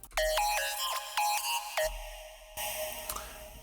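A bright synth lead with pitch slides from a type beat rings out in short bell-like phrases, followed by a lower, hazier sustained passage.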